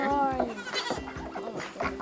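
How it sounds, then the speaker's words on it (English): Goats bleat on a family farm, several harmonic calls close by over about two seconds, with people talking over and between the cries. "This is our other goat."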